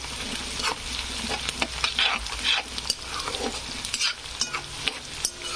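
Peanuts roasting in a pan for kanda poha, stirred steadily, giving a continuous dry sizzle broken by repeated close scraping strokes at a moderate level.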